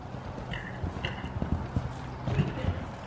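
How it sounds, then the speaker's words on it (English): Hooves of a lively horse clop on the ground in an uneven, quick rhythm, moderately close over a rough background. "This is a horse that knows how to have fun."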